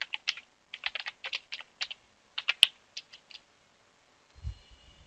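Close computer keyboard typing at a Linux Mint terminal: a quick run of distinct key clicks in uneven bursts that ends with an Enter press, followed by a faint low thump.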